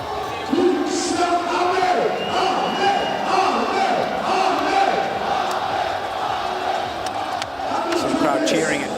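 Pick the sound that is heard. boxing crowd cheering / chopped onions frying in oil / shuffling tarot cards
boxing crowd cheering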